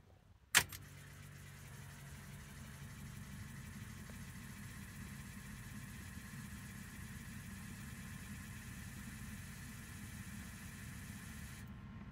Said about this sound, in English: you should hear clicking of your injector